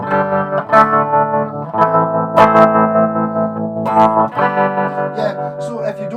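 An electric guitar played through a Line 6 Micro Spider amp with tremolo and other effects, sustained chords and notes ringing out, wavering and processed, fairly loud and close with no talking.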